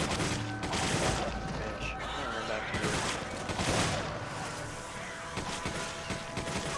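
Rapid gunfire rattles through a co-op session of Resident Evil 5, dense bursts of shots layered over chaotic game noise at a moderate, fairly steady level throughout.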